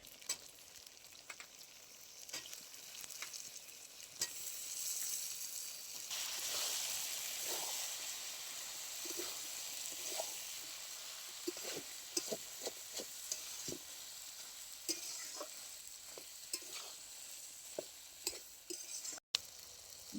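Onion stalks frying with potato and eggplant in fish oil make a soft, steady sizzle, with scattered faint clinks and scrapes of a spatula stirring against the pan.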